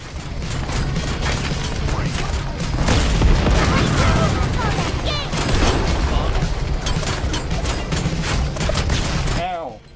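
Rapid automatic cannon fire in a GTA open-world game, a dense sustained barrage of booming shots and mechanical clatter lasting several seconds, loud and continuous before a brief cutoff.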